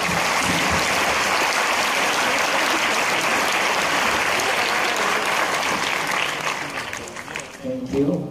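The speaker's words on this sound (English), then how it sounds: "give Dr." Large audience applause for Dr. Jane at a CJCU lecture, a dense steady roar of many hands clapping that holds for several seconds, then thins out and fades near the end.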